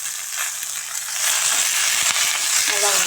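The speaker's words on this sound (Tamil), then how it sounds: "கீரையை நல்லா கொஞ்சம் வணக்கிடுங்க" Manathakkali greens sautéing in a pan over low heat, a steady broad sizzle with soft stirring scrapes that grows slightly louder partway through.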